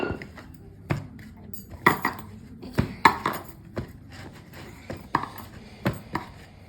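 A child scrubbing metal utensils, with irregular clinks and clanks of metal pots and plates knocking together at close range, sharp ringing taps recurring every second or so over quiet rubbing noise.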